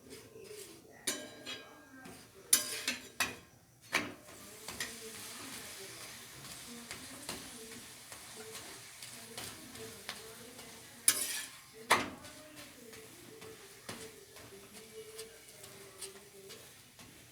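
Chapati paratha frying in a little oil in a pan, soft sizzle under intermittent utensil clinks and scrapes, with a few louder knocks against the pan, close up and fairly quiet.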